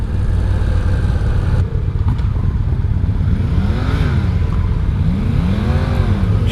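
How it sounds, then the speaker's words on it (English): Yamaha SCR 950 motorcycle engine running loud and steady on a ride, with a couple of rising and falling revs, surrounded by constant traffic and road noise. "to see how this engine likes to rev"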